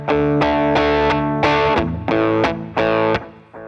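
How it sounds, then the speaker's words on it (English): An electric guitar strums distorted chords through a delay effect with the mix turned down, each attack ringing briefly with faint repeats underneath, loud and close with a few quick rhythmic hits. "I'm turning it down so that you're not hearing as much of the delay to begin with."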